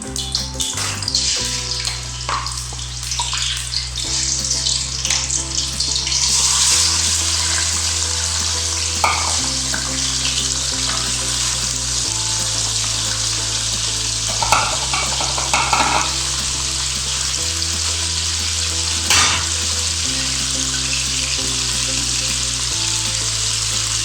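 Salted chicken fries in a generous amount of hot oil for street-style Peshawari charsi karahi, giving a loud, continuous sizzle with occasional stirring scrapes over a low background hum.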